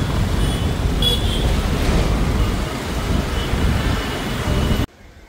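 Heavy road traffic on a congested route toward Mumbai, near Powai, heard during a motorbike ride: a dense, continuous roar of engines and wind with a brief horn toot, cutting off abruptly near the end.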